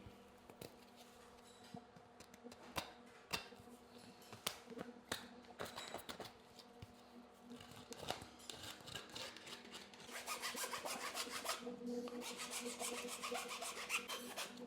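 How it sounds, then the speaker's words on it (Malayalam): A file rasps along the hacksaw-cut edge of a plumbing pipe while a wall-hung Jaquar closet is being fitted. Close, uneven scraping strokes grow denser and more continuous toward the end, with no talking. "നമ്മൾ ഈ കാണുമ്പോൾ കട്ട് ചെയ്ത് ഇത് ഹാക്സ് ആയിട്ട് നമ്മൾ സൈഡെല്ലാം വൃത്തിയാക്കി കൊടുക്കണം"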